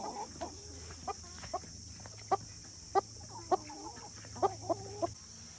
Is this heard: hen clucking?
yes